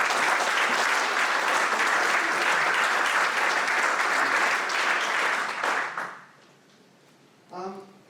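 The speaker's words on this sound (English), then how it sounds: "let's give Tim a clap" Conference audience applauding a presentation: sustained, dense clapping from many hands for about six seconds, then fading out, followed by a brief spoken voice near the end.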